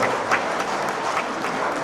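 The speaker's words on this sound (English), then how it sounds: "So I request you all please clap and I welcome back to the speaker" Steady audience clapping at an Indo-US workshop on hazardous materials management, welcoming the speaker back to the podium; a short, even burst of many hands with no speech over it.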